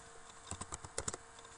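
Quiet, close clicks of a computer keyboard come in a short burst of about half a dozen keystrokes at an uneven pace, soft against a faint background hum.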